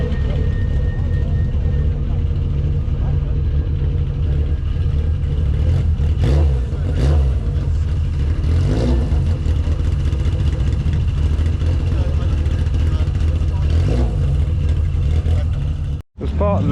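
Steady car engines hum and idle loudly at a classic car gathering at Bicester, with a few swelling revs rising and falling over the drone; no clear talk stands out.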